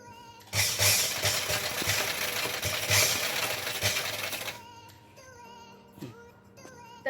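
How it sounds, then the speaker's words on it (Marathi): Sewing machine stitching a frill along the lower border of a saree, a loud steady mechanical whirr for about four seconds, then stopping into quieter clicks and handling noises. "अशी ही आता मी या खालच्या पूर्ण भागावर फ्रील लावून घेते"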